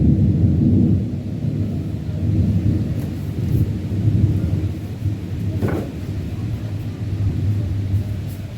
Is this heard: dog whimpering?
no